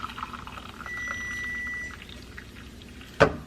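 Water poured into a pan of toasted rice for Mexican rice, a close steady pour for about a second followed by a faint simmer and a sharp clatter near the end.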